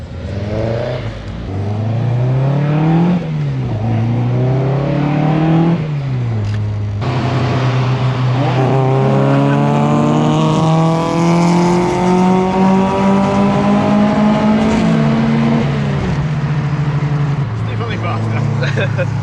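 Toyota cars on a throwback cruise, an engine revving up and down through several rising gear pulls, loud and close throughout, with people talking over it.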